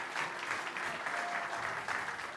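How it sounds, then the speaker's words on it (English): Audience applause at a battery health and repairability talk, a steady, dense wash of clapping that holds through the whole stretch without letting up. "can I get a round of applause for the cutest, most well-behaved kid I've seen in"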